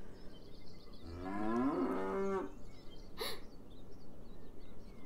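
One sustained cow moo from the video game Beyond Eyes, nearby and fairly loud, followed by a short sharp breathy burst and quiet ambient noise.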